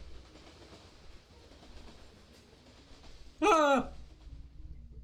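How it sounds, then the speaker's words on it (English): A train in the BrickRigs building game sounds a sudden loud, wavering horn-like blast lasting under a second, standing out over a steady low rumble of gameplay noise. "Oh, there's the train again."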